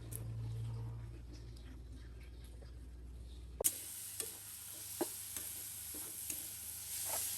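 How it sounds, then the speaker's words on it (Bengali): Bitter gourd frying with small shrimp gives a faint sizzle, then scattered soft clicks and scrapes of stirring in the pan, after a low steady hum and tune stop abruptly. "এই দেখুন করলা ভাজি করছি চিংড়ি মাছ দিয়ে, ছোট চিংড়ি দিয়ে করলা ভাজি।"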